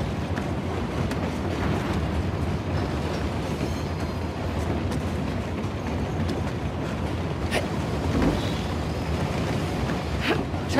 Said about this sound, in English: Commandeering a train?